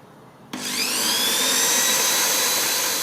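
After a half-second of quiet, an electric drill kicks on abruptly and whines loudly at a steady high pitch close by, drilling holes in a Stratocaster guitar body.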